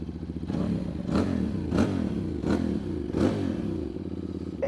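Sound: 180-degree parallel-twin motorcycle engine idling

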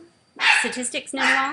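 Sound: dogs barking

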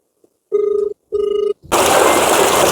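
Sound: phone ringing

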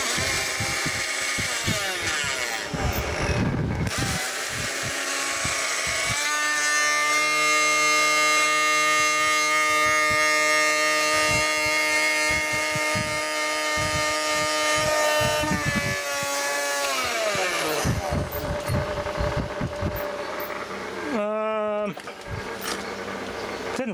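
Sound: small 12 volt motor driven by vintage Akai amplifier

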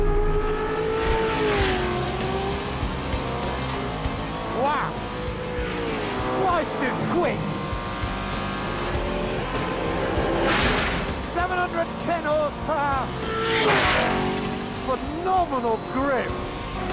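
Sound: Brabham car with 5.4-litre V8 engine driving

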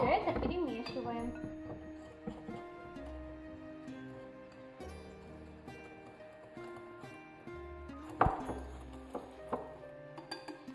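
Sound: stirring eggs, sugar and flour in a bowl

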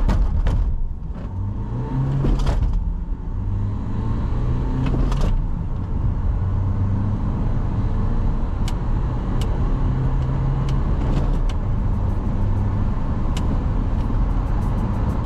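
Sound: Renault Trafic 1.6 dCi van accelerating, 0-100 km/h test

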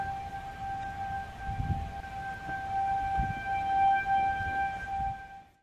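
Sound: sirens at night

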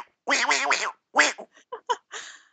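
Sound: person imitating a goose or duck call during Destiny play

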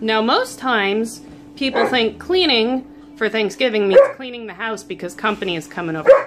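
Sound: dog barking while playing

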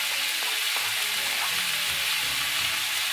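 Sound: sausage meat and diced onion frying in a pan

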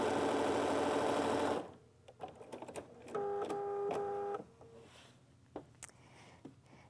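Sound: sewing machine stitching piping onto a pillow

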